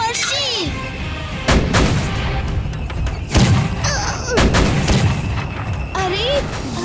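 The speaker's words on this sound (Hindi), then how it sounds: "अरे ये चोर तो मार्च पास्ट में फोड़ने वाले चमकीले रॉकेट्स अभी खत्म कर रहे हैं।" Cartoon fireworks rockets for a Republic Day parade launch in a series of loud booms and bangs with whistling streaks, mixed with animated sound effects and characters talking over them.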